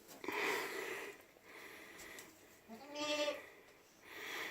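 A goat bleats nearby, a wavering cry followed by a shorter call, with soft snuffling and rustling between them.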